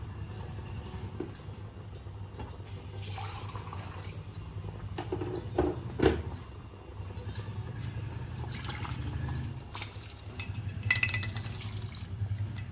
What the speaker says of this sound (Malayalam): ഞാൻ ഒട്ടാകെ 4 ഗ്ലാസ് വെള്ളം ഒഴിച്ചു